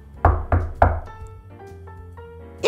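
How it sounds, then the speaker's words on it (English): Three sharp knocks on a wooden door, evenly spaced and close, followed by a soft lingering tone and quiet. "they heard a knock on the door"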